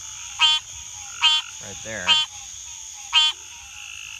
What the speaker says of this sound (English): These are just regular old green tree frogs like we see everywhere.